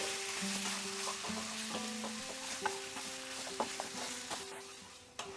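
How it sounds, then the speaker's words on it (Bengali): Chicken with onions stirred in a frying pan, a steady sizzle with repeated scraping strokes of a spoon against the pan, close and clear over a faint background hum, no voices. "ভালো করে পেঁয়াজের সঙ্গে আমি চিকেনটাকে মিশিয়ে নিচ্ছি।"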